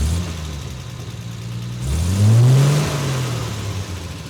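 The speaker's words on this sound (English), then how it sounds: "Let me rev it a little bit" A car engine idles, then revs up briefly and settles back down, a low rising and falling engine tone heard up close during a check of a transmission with an intermittent overdrive fault.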